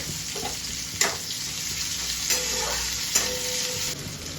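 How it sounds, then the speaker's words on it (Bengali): Chopped onions drop into hot oil left from frying potato and pointed gourd, giving a steady close sizzle with a few sharp bursts and utensil knocks, no voices. "এবার ওই তেলের মধ্যেই দিয়ে দেবো আমি পেঁয়াজ কুচি,"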